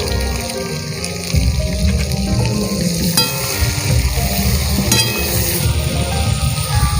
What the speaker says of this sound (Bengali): দেখো মা নেড়ে চেড়ে ভেজে নিচ্ছে